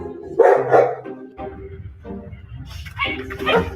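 A dog barks in loud, close bursts, with a pair of sharp barks, a pause, then another cluster of barks and yips.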